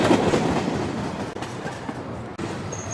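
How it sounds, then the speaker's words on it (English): Subway train running with a steady rumbling roar and rail clatter, close and loud throughout, with brief dips in the noise. "I can see a subway train."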